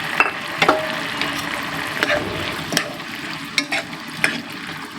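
Squid adobo sizzles in a thickened sauce in a pan as it is stirred, a steady close frying hiss broken by sharp scrapes of the spoon against the pan, with no talking.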